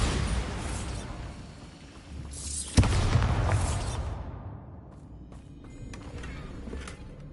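A Bombarda blasting spell explodes in Hogwarts Legacy, a sharp crack at mid-clip followed by a rumbling blast and debris tail, loud and close, fading into quieter ambient rumble with faint clicks.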